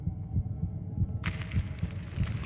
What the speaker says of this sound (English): My heartbeat is getting very fast now, which is bad.